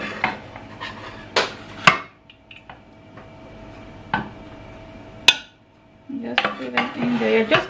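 Raw cauliflower and broccoli florets tipped into a baking dish, with several sharp clatters and knocks of vegetables and utensils against the dish, separated by quiet pauses and ending in a denser run of rattling handling noise.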